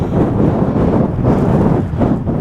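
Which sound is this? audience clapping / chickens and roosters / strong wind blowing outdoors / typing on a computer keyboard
strong wind blowing outdoors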